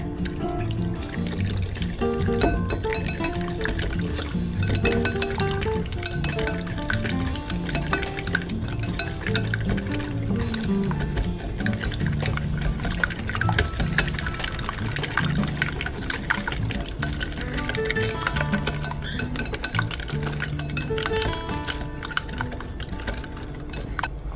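Small whisk beating a mixture in a bowl for broccoli beef, a continuous rapid clatter and liquid swishing that carries steadily and fairly loud throughout, with no talking.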